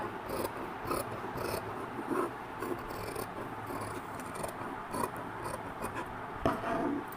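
Scissors cut through a paper blouse pattern in quick, irregular snips and rasping slides, fairly quiet and close, with no speech.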